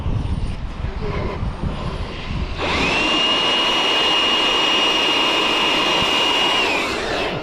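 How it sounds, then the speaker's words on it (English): A job site blower switches on partway through and pushes air into a ball with a loud, steady roaring whine that holds evenly until it cuts off near the end, after a stretch of quieter rushing noise. "I'm going to just top it up a little bit with this job site blower"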